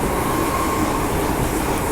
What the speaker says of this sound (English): Now they are testing Q trains on the island line